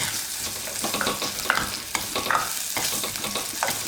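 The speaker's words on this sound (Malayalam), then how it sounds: "ഇതിലേക്ക് നമ്മൾ കട്ട് ചെയ്ത് വെച്ചിരിക്കുന്ന ഇഞ്ചി, അതുപോലെ തന്നെ വെളുത്തുള്ളി, പച്ചമുളക്, ഇത്രയും കാര്യങ്ങളൊന്ന് ലൈറ്റായിട്ടൊന്ന് സോട്ട് ചെയ്യുക" Chopped ginger, garlic and green chilies sautéing in a pan: a loud, continuous sizzle with repeated scraping and clinks of a spoon being stirred through, no voices.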